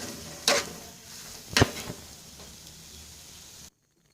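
Carrot halwa being stirred and roasted in a pan, a soft steady sizzle broken by two sharp scraping knocks of the spoon before it cuts off.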